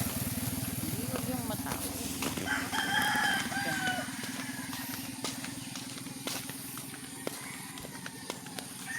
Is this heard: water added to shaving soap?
no